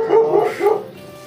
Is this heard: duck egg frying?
no